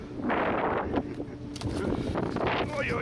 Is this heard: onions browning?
no